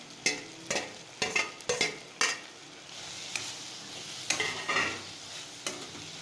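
Ginger and grated coconut for chutney sauté in a pan. A soft sizzle sits underneath sharp, distinct stirring scrapes and clanks, which come in quick bursts and then thin out. Nearby, fairly quiet, no speech.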